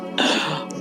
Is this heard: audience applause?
no